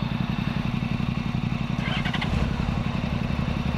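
Several motorcycles, a Honda Gold Wing, a BMW GSA and a Ducati, idle together before a group cookout ride, giving a steady low engine rumble throughout with a brief mechanical clatter midway.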